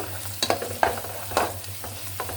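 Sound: sautéing garlic and ginger paste in a pan

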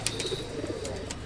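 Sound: pigeon cooing

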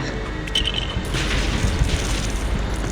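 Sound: explosions in a video game

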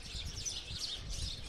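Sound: house sparrows chirping at a millet feeder

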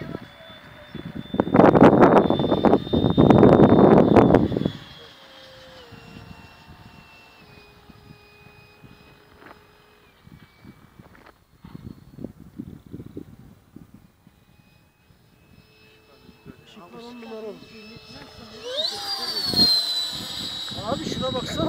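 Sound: Mirage aircraft flying overhead

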